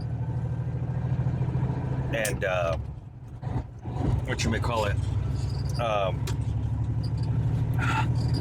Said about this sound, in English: turn the truck on, let it warm up